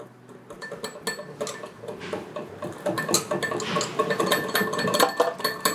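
A whisk beats an egg mixture for milk bread dough in a bowl, producing rapid, irregular metallic clinks and taps against the bowl that grow busier and louder.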